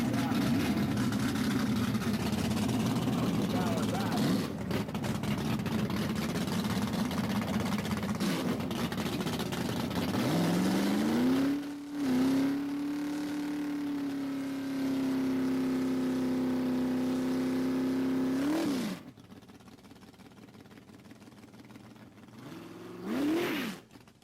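Drag cars at the Shuffletown Shoot Out, engines droning loud and steady, with one rising in pitch midway into a sustained high rev before cutting off, then a brief final blip; an announcer's voice carries over the racing.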